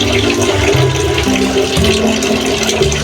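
Water sloshing and churning in an aquarium during an earthquake, a loud continuous rushing wash close by with no pauses.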